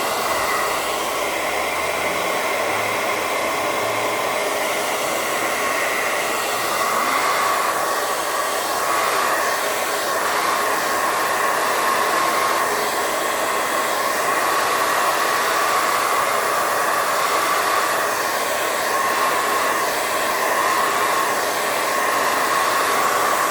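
A hair dryer blowing on craft paint, a loud, steady, close whoosh that runs unbroken the whole time with no voices.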